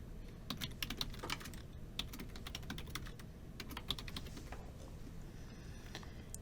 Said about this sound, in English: Next, you type the name for the web link